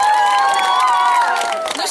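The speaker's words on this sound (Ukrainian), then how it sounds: "Тому давайте оплески собі." Crowd cheering and shouting at an outdoor karaoke game on a town square in Bilokurakyne, Ukraine, a loud dense burst of voices with high-pitched whoops and a few claps, brief and close.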